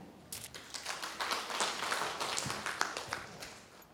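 An audience applauds to welcome a professor at a Ruby Jubilee celebration: dense, steady clapping from many hands fills the whole stretch at moderate loudness, with no voices over it.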